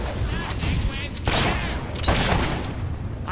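Fable 3 gunfire fills the scene with loud, continuous crackling volleys and heavy booms, several bursts surging one after another close by, with a voice talking underneath.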